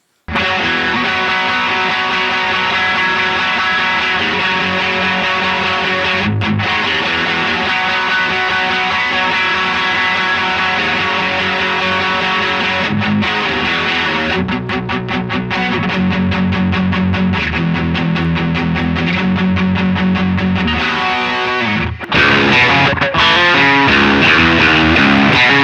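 A heavily distorted electric guitar plays sustained chords and riffs, loud and dense, with a brief pause before a brighter, harsher passage.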